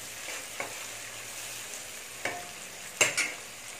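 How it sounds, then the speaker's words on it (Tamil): Boiled potato masala for poori is stirred and mashed in a sizzling pan, with a steady close fry and several sharp spoon scrapes and knocks against the pan. "இந்த உருளைக்கிழங்க நல்லா பிசைஞ்ச மாதிரி போடணும். நல்லா பிசைஞ்சு விட்டுறணும்"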